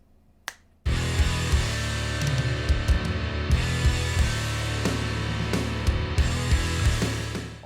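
A processed kick drum sits within a full band mix and lands as a series of punchy low thumps under the other instruments. A brief click comes first, then the mix starts loud and stays busy.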